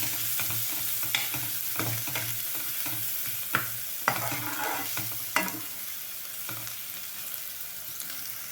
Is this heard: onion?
yes